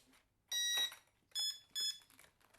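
An E-flite UMX J-3 Cub model airplane's electronics give a series of high-pitched beeps in three short bursts, the first longer, signalling it is ready to bind, sounding close and clear with no voices.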